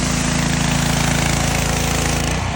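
A gas-powered pressure washer with a surface cleaner attached runs loud and close, its engine rumble and spray a dense, continuous roar with a rapid pulsing throb for the whole stretch, no voices over it.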